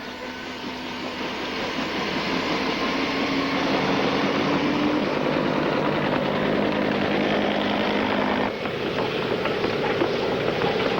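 A steady, loud engine roar with a throbbing rotor drone from US Army helicopters, continuous and fairly close, with no voices.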